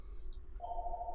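A telephone rings indoors, a single steady electronic ring tone starting partway through and holding to the end over low background hum.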